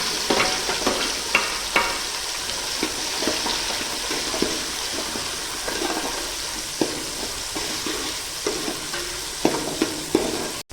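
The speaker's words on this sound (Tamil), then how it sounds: "இப்போ தக்காளியும் வெங்காயமும் நல்லா வதங்கிடுச்சு." Small shallots and tomatoes sauté in a pan, a close continuous sizzle punctuated by frequent sharp spatula scrapes and stirs at an irregular rhythm, with no talking.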